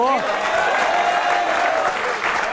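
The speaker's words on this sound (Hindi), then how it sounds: "ये जितने लोग ताली बजा रहे हैं और खुश हो रहे हैं" An audience claps loudly and continuously through a political speech event, a thick, sustained wash of applause with no pauses, while a voice is heard speaking briefly at the start over the clapping.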